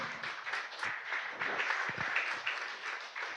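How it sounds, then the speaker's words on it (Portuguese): A church congregation applauds together, a dense, steady patter of many hands that carries at an even level from start to finish, with no voices over it. "Pode aplaudir se você entendeu."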